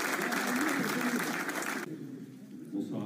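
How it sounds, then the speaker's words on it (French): An audience applauds an amateur football club, USMB Louargat, at a stadium event, the clapping loud for nearly two seconds, then cutting off abruptly, with a voice speaking afterward. "Ils sont là, on peut les applaudir."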